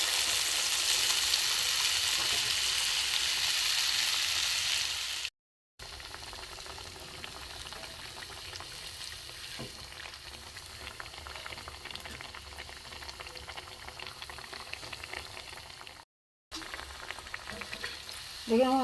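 Brinjal chops coated in gram flour batter fry in hot oil, a steady loud bubbling sizzle that runs continuously, with two brief silent cuts and a faint voice near the end.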